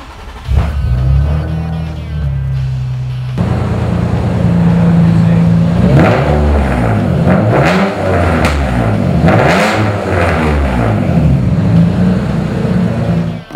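A 2004 Nissan 350Z with a free-flow exhaust and polished mufflers cranks and starts, idles with a deep burble, then revs hard several times in rising and falling surges, loud and close.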